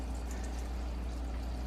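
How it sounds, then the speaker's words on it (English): Water is poured into a seedling tray, a steady close trickling wash with no voices. "I'm going to pour water in this tray,"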